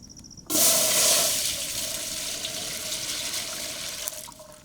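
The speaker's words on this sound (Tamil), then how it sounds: "ஒரு பேசன் அளவு தண்ணி சேர்த்துக்கிறோம்" Water suddenly gushes into a basin for sugar syrup in a loud, steady rushing stream that settles slightly and continues to the end.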